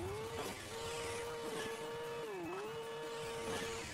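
Upgraded racing truck engine from the Hill Climb Racing 2 mobile game, a steady high-pitched whine that holds level, briefly dips and climbs back, with tire noise underneath and no talking.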